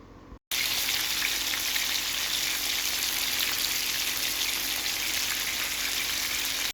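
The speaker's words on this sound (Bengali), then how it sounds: "এখন এই চিকেনগুলোকে আমি হালকা ভেজে নেবো" Marinated chicken pieces, coated in turmeric, chili and pepper, frying lightly in oil for a yogurt chicken curry: after a short quiet start, a loud, dense, steady sizzle and crackle runs to the end with no talking.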